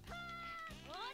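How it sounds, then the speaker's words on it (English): A game character in Sailor Moon SuperS screams in a high, wavering, cat-like wail that rises and falls across two long harmonic cries, loud and close. "the screaming is getting on my nerves"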